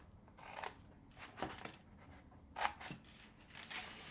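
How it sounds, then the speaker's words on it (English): Scissors cutting through a paper gift box template, a few faint, brief snipping crunches spaced apart in a quiet room. "we're going to cut up to that score line"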